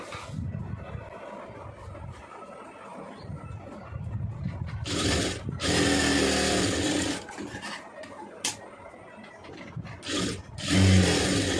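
A sewing machine stitches a saree border onto a puff sleeve in a few short, close runs of rapid mechanical whirring, separated by quieter handling noise.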